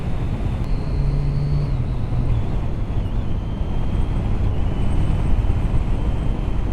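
A 2013 Triumph Daytona 675 motorcycle roars steadily on the road with wind rush, the engine note shifting as it moves through the gears.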